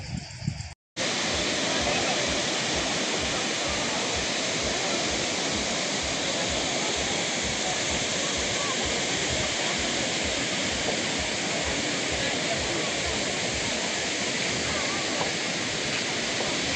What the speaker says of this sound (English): we're at the Kravic waterfall